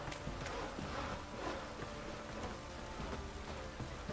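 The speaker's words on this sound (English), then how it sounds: "Oh, it's drizzling." Light drizzle falling in the open-world game Witcher 3, a faint, steady patter of raindrops forming a continuous hiss with no talk over it.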